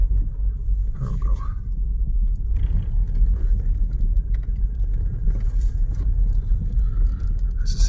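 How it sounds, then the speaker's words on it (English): A 1986 Vauxhall Cavalier MK2 1.6L estate with a 4-speed manual gearbox being driven, heard from inside as a steady low engine and road rumble with faint rattles throughout and no talk. "we'll drive it back around and park it"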